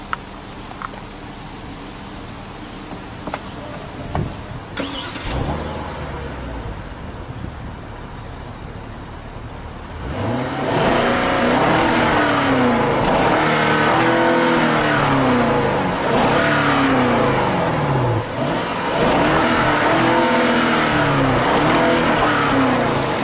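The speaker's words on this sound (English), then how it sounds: "For those of you who thought you would never find a Kia with a V8 engine, here it is." A 2015 Kia K900 V8 engine cranks and catches, idling with a deep burble before a series of loud, rising revs repeat in rhythmic surges, close by.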